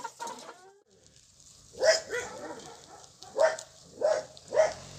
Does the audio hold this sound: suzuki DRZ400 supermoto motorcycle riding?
no